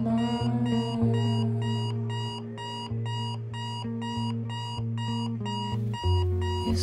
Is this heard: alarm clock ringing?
yes